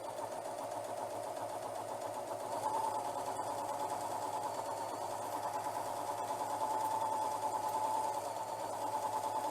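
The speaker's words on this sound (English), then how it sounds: "So now we're just going to do a rolled hem" Serger stitching a rolled hem along ribbon, a continuous fast mechanical whir with a steady hum and fine rapid ticking, held at an even moderate speed throughout.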